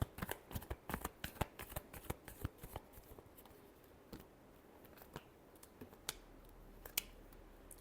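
Tarot cards being shuffled close by, a quick run of crisp riffling flicks and taps that thin out into sparser clicks, faint and alone without talk.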